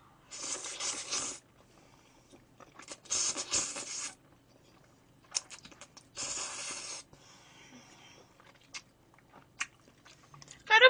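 Close-up chewing of carbonara buldak fried noodles, heard as several separate bursts of wet, crunchy mouth noise with quiet pauses between them, ending in a louder burst.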